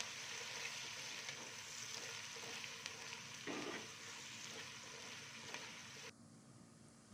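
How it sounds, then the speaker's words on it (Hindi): Steady, dense sizzling of onions frying in hot oil until golden brown, continuous and close, with no voices. "प्याज को इतना फ्राई करना है कि ये गोल्डन ब्राउन हो जाए"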